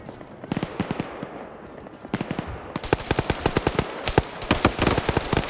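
Rapid bursts of gunfire and explosive pops in a video game match, crackling in fast dense volleys that build louder toward the end, with no talk over them.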